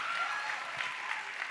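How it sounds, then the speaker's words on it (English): A church congregation at a Sunday second service claps for the singers, a short, even burst of applause at moderate distance with a faint tone over it. "Let's give them another round of applause"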